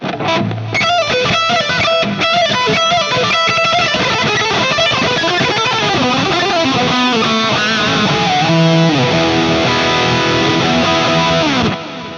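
A heavily distorted electric guitar through a high-gain Engl Savage metal amp model with delay plays a fast, continuous lead line with bends and trailing repeats, loud and sustained throughout.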